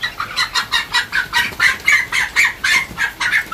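Large, fat farm chickens cluck in quick rhythmic bursts, close and loud, each short squawk repeating about twice a second with no talking.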